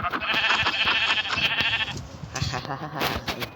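Sheep bleating in the Minecraft video game, a run of repeated game bleats close and clear over busy in-game sounds, with a second burst of sounds toward the end.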